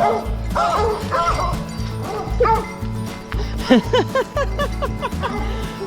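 A pack of hound dogs in the woods bay and yelp loudly and close, overlapping howls and yips in a continuous chorus, with a voice faintly underneath.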